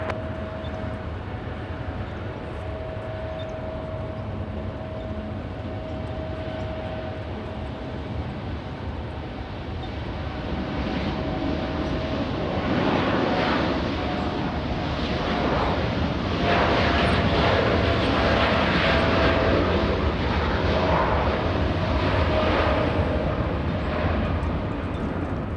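An airliner comes in to land on runway 24 right at Los Angeles International Airport, its jet engine roar rising slowly from a distant hum to a loud, broad rumble as it passes, with no talk.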